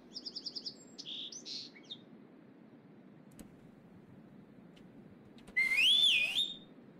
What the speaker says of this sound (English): I just pressed U instead of I and I whistled